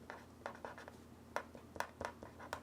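Pen scratching on paper while writing in an Erin Condren LifePlanner, faint and close, with short irregular strokes and taps.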